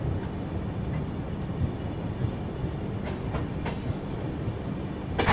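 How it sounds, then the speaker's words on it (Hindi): A Humsafar Express train running at around 120 km/h, heard from on board as a loud, continuous rumble of wheels on rails with faint rhythmic clatter and a brief sharper rattle near the end. "तो अभी इस रूट में एंटर होने के बाद अपनी ट्रेन लगभग 120 के अराउंड चल रही है"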